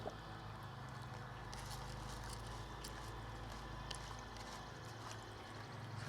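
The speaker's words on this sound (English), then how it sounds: "when you rinse rice, it gets to be a nice murky water" Roughly a quarter cup of rice is rinsed in a small amount of water for a homemade garden inoculant. It comes through as a faint, steady swishing and trickling, with soft splashes and no talk.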